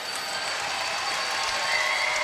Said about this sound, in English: Well, the crowd will tell you, right? With that cheer, they like it.